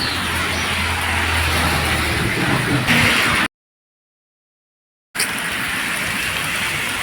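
Heavy rain pours steadily outdoors near a hill temple during a fair, a dense broadband hiss with a low vehicle rumble, cut by a brief silent gap before the downpour resumes.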